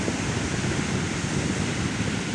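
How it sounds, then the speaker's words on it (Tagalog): Big sea waves pounding during a storm, a loud, continuous roaring wash of surf and wind noise close to the microphone, with no talk. "Oh, balod kayo."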